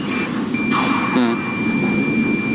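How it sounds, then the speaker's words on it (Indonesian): A multimeter in continuity mode gives a steady electronic beep while its probes test a shorted Schottky rectifier diode of the SP10100 or MBR20100 type, the tone running through the whole stretch over background noise. "ini juga bunyi bip, berarti memang diode yang satu ini sudah bobol"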